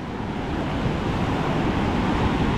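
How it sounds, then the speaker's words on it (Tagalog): Strong ocean waves splash and rush in a continuous, loud wash of surf, with a steady, roaring texture and no voices over it. "Yung mga talsikan lang yan ng malakas na alon."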